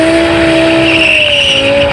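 A BMW spins its wheels at the start of a drag race, with the loud, close squeal of tyres sliding against the tarmac over the roar of the engine, sustained for about two seconds.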